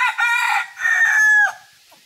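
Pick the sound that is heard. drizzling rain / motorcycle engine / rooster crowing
rooster crowing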